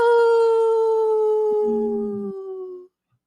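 A wolf's long, clear, loud howl glides slowly downward in pitch and fades out after almost three seconds, with a brief low growl-like murmur beneath it partway through.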